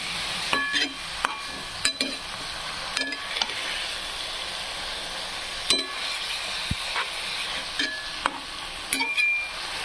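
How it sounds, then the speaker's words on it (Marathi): Moong dal added to a hot pan and stirred, a soft continuous sizzle and hiss punctuated by sharp spoon clinks and scrapes against the pan at irregular intervals. "त्यानंतर आपल्याला टाकायचं आहे मुगाची डाळ"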